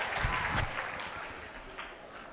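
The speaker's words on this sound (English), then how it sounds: "Give yourself a round of applause." A motivational-speech audience gives a short round of applause, moderately faint and diffuse, fading slightly toward the end with a few voices mixed in.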